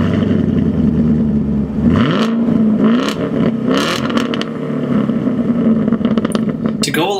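A 2016 Chevrolet Camaro SS with its 6.2-liter engine revving and accelerating, a loud, steady engine roar that rises in pitch partway through and stays close throughout.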